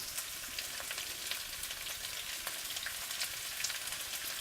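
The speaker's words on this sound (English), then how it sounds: "We're going to dump all of these veggies into that pan and get them sauteed." Steady, crackling sizzle of vegetables sautéing in a hot pan for shakshuka, close and continuous, with faint pops and no voices.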